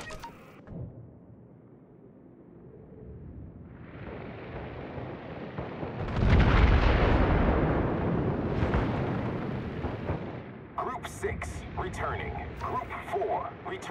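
Anti-aircraft fire bursting around carrier planes in the World of Warships naval game: a rumbling wash of explosions swells to a loud, dense roar midway, then crackles with sharper pops, under radio-style voice callouts.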